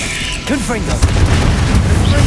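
A Confringo fire-spell explosion from Hogwarts Legacy bursts through after a voice calls out, then spreads into a sustained rumbling boom that lingers at steady loudness.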